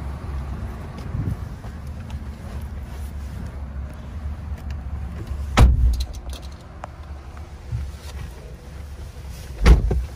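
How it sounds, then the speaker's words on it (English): A 2012 Dodge Ram pickup on a test drive, its steady low engine and road rumble running throughout with a couple of louder thumps from bumps, no talk. "So let's take you on a short test ride."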